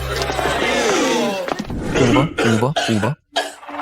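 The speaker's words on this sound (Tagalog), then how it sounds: "Ubo." A few rough, harsh coughs in quick succession, close and fairly loud, after a stretch of throaty noise, with a short silent gap near the end.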